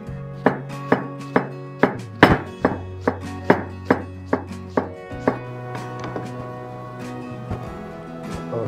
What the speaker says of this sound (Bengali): সো এটার জন্য আমরা অনিয়নটা স্লাইস করে নিচ্ছি